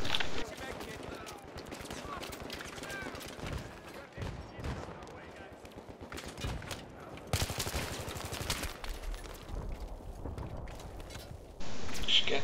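Sustained automatic gunfire in the video game Battlefield 3, dense rattling bursts with occasional heavier shots and mechanical clatter, loud and close, with voices talking over parts of it.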